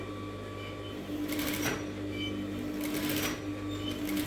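A sewing machine runs steady stitches along a garment lining joined to the facing's inner edge, a constant mechanical whir with two louder bursts of faster stitching near the middle and end.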